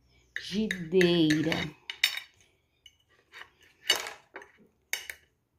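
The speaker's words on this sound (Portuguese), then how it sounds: "agora nós vamos cortar para ver como é que ficou. Nosso bolo de frigideira." Cutlery scrapes and clinks against a plate while cutting a banana cake cooked in a frying pan: a short voiced sound first, then several separate metallic taps and scrapes spaced apart in a quiet room.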